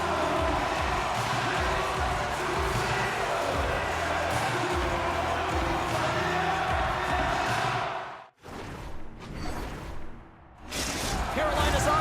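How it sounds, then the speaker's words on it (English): An NHL 25 hockey arena crowd roars steadily after a Carolina goal, a dense sustained cheer that cuts out abruptly near the end before the noise swells back, with commentary running over it. "Carolina's on the board. The crowd's loving it."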